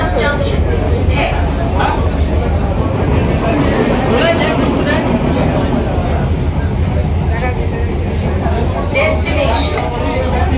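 An AC local train on the Sealdah–Ranaghat line picks up speed after Bidhannagar Road station, with a steady low rumble and clatter throughout under close talking and background chatter.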